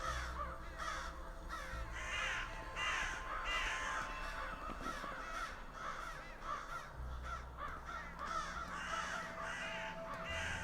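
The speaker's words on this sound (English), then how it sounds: "Crows." Crows caw repeatedly in the video game Saint Kotar, their harsh calls overlapping in an irregular rhythm over a steady, dense ambient backdrop, moderately loud and continuous throughout.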